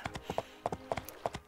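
Horse hooves clip-clop in the video game My Time At Portia, a quiet, quick, uneven rhythm of hoof knocks at a walking pace, close by with no talk.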